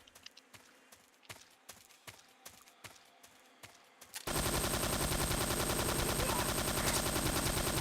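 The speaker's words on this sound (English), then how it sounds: "Oh shit, I'm shooting the bridge out." A rapid, steady run of gunshots fired at a bridge in Metal Gear Solid 3, then a sudden, loud, sustained roar of noise that drowns everything.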